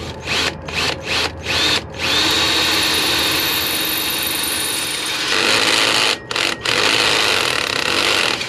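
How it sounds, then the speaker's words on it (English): A power drill boring a pilot hole through the exhaust tip of an RV Aqua Hot generator, loud and near, starting in several short bursts, then running steadily for a few seconds before two more brief pulses. "I'm going to help the process along, and by drilling a pilot hole"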